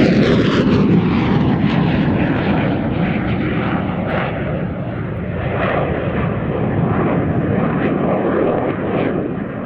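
An Italian Air Force propeller plane roars loud and close at an air show, its engine drone steady, then easing slightly and swelling again as it maneuvers overhead.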